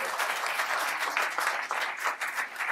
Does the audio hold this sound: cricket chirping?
no